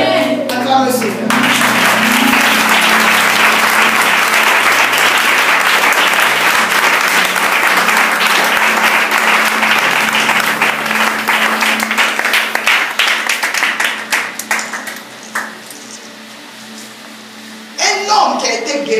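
A church congregation applauds loudly and steadily to acclaim the Lord, a dense wash of clapping for about fifteen seconds that thins out before a brief renewed burst at the end.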